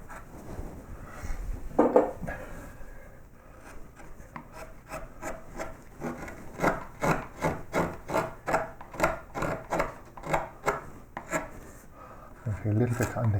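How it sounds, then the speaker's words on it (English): A V-tool carves wood for a child's bedroom sign, pushed like a chisel in a close, quiet run of short scraping and slicing strokes that grows into a quick, rhythmic series. "I can use the V-tool even to push that back a bit further."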